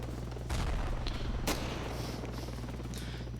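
Gunfire in the Ravenfield combat video game, distant bursts and sharp shots over a steady low battlefield rumble, with one loud crack standing out midway and fainter reports scattered around it.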